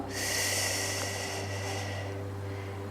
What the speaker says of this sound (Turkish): Kocaman büyük bir nefes alıyoruz.